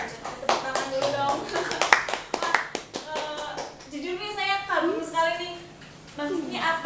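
Applause from an audience at a community learning centre (PKBM) gathering in Pekuncen, a burst of sharp hand claps in the first few seconds, then fading as a person speaks over the last part.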